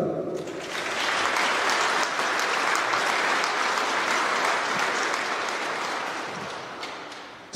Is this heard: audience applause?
yes